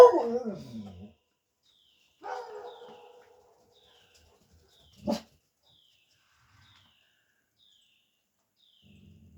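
Dogs, including a hound, give a drawn-out howl and then a shorter bark-like call outdoors in a quiet mountain setting. A sharp single crack follows, then long stretches of near silence.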